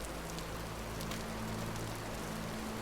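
Steady rain falls in the Vintage Story survival game, a dense even hiss with a low hum beneath it, continuous and without talk.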